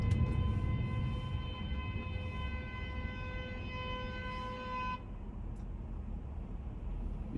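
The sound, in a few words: car horn honking behind in traffic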